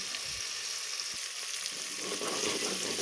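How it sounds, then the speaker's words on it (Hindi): Green chillies frying in oil, a steady close hiss and crackle of sizzling that continues without break and grows slightly busier toward the end, with no voices. "हरी मिर्चें फ्राई हो रही हैं। इनको हल्का ब्राउन करेंगे।"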